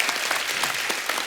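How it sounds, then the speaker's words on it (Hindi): Studio audience applause on a comedy talk show, a dense steady wash of many hands clapping at once, fairly loud and close, with no speech over it. "तालियां होनी चाहिए।"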